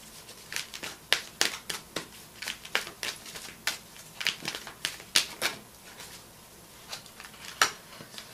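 A deck of romance angel cards being shuffled close up, a quiet series of sharp, irregular riffling snaps and taps, heard alone.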